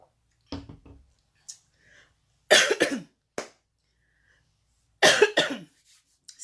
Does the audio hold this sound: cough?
yes